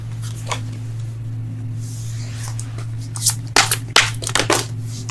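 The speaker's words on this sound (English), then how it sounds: "So let's go ahead and clarify some cards here." Tarot cards shuffled by hand during a reading, a low steady hum underneath and soft riffling at first, then louder, sharper bursts of card shuffling toward the end.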